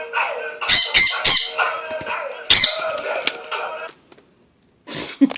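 A bird gives several loud, sharp squawks in quick bursts, close to the listener, followed by a short silence and one more squawk at the end.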